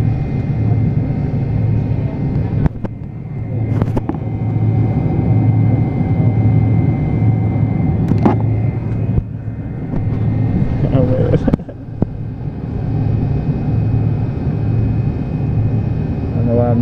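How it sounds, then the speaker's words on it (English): Airliner turning onto the runway and taking off, heard from inside the cabin as a steady loud engine roar and rumble with a few clunks, while people talk over it. "Alright, turning onto the runway now."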